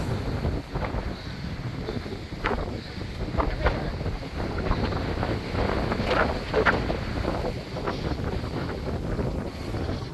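Strong wind blowing hard on a high point near the Cueva del Indio petroglyphs on the Caribbean coast, loud buffeting gusts battering the microphone with rough low roaring throughout.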